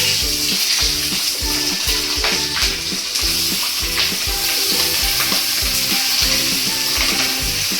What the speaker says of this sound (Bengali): এবার পেঁয়াজগুলো গরম তেলে, যে তেলে চিকেনটা ভেজেছি সে পেঁয়াজটা দিয়ে দিলাম।